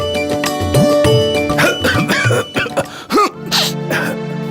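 A man coughs and clears his throat several times in harsh, loud, close bursts, with voiced rasps between them.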